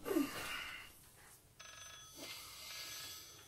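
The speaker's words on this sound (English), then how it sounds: "I can hear the phone again" A telephone rings faintly in the horror video game Layers of Fear, a steady electronic tone under a quick gasp and ambient game noise.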